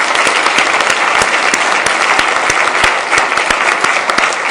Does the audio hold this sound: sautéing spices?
no